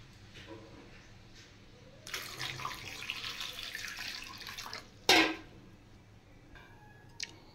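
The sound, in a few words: pouring water onto raw bananas for boiling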